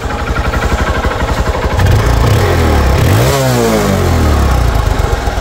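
A second-hand Hero Hunk 150cc double-disc motorcycle runs loud and close, its steady idle rising into a strong rev that sweeps up and settles, with no voices over it.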